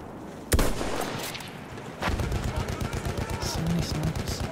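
Battlefield 1 combat rings with a loud single gunshot and another crack, then steady rapid automatic fire rattling on beneath, with no one speaking over it.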